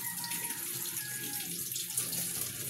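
Tap water running steadily into a sink while vegetables are washed for shrimp sinigang, a continuous close splashing stream.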